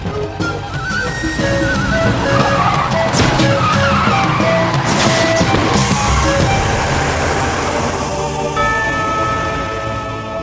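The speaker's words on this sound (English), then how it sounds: "Hey, they blew a tire!" A car in The Wild Thornberrys cartoon skids loudly with squealing tires over a busy, continuous soundtrack of engine noise and musical tones, the screech building and sustaining for several seconds without speech.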